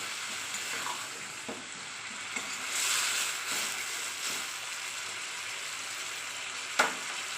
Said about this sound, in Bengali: চিনিও দিয়ে দিচ্ছি ভালো করে আমি কষিয়ে নিচ্ছি